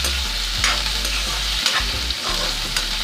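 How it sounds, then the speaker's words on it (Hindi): Cauliflower stalks stir-fry in a pan with ginger garlic paste, a busy sizzle with scraping stirs and occasional low knocks of the spoon, close and steady with no talking. "और इसे मैं 2 मिनट ऐसे ही भून लूँगी।"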